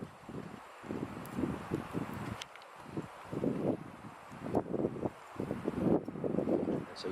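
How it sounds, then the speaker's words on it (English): Wind buffets the microphone in irregular low rumbling gusts, rising and falling throughout with no talking. "It's a wee bit windy as well"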